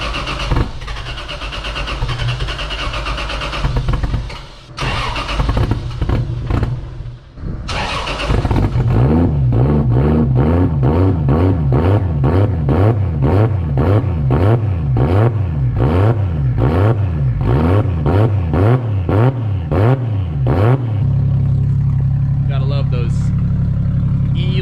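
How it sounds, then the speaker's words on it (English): A Toyota 2JZGTE VVTi engine with a GTX35 turbo on ethanol cranks and fires on a cold start, then settles into a loud, rough, surging idle with a rhythmic rise and fall, close by. "you gotta love those ethanol cold starts, man"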